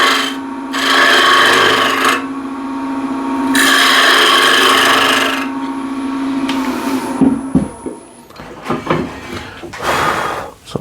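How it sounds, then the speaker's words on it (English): An asymmetric curve scraper rasps over a handmade wooden ladle in long, loud strokes with a droning hum underneath, followed by lighter intermittent scrapes and knocks. "the way I'll remove that is with the asymmetric curve scraper"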